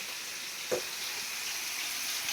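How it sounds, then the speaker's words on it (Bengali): Prawns and fish frying in a pan of hot oil, a steady close hiss and sizzle throughout with one brief spatter or clink. "আমি সব মাছ টাছগুলো ভেজে নিই একে একে। চিংড়ি মাছগুলো ভাজা হয়ে গেল"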